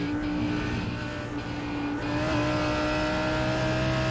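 A faster GTE-class race car's engine approaching and passing in a racing sim at Canadian Tire Motorsport Park, steady high-pitched drone that swells and shifts in pitch as it closes in, loud and continuous with no talk.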